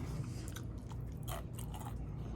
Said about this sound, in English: And the crust on the end is kind of crunchy.